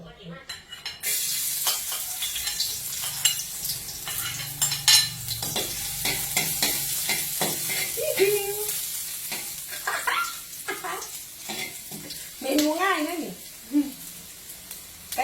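Continuous sizzling of garlic frying in oil in a hot pan, with stirring scrapes and utensil clinks, and a voice talking in Thai over it now and then.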